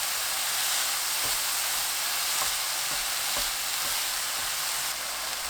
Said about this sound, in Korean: 파, 홍고추 넣고 골고루 섞일 정도로 볶은 뒤 바로 불 끄세요